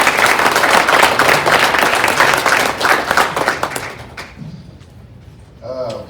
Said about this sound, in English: a round of applause for the WDVA folks and Dr.